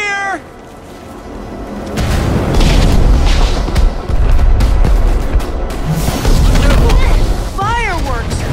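Fireworks explode in the video game Minecraft Story Mode, a dense run of loud booms and crackles under a rumbling battle mix, with high whistling streaks near the end and an opening squeal.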